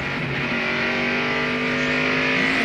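Onboard view of Dale Jarrett's UPS NASCAR race car at New Hampshire in 2001, its engine holding a loud, steady high-rpm drone throughout with no break or voices.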